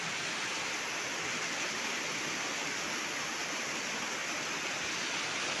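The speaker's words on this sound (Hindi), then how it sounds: "पूर वाली नदी देखने के लिए आ जाओ इधर" A flooded river in a village rushes steadily, a loud, unbroken wash of water with no voices over it.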